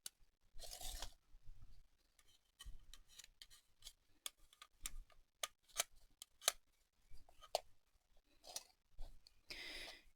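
Scissors snip through yarn loops while making tassels, a series of sharp, close crisp cuts in an irregular rhythm with brief rustles of yarn between them.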